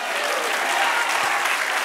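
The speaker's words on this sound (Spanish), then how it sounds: "Dale aplauso al Señor." A church congregation claps continuously, a dense even wash of applause filling the room with no voices standing out.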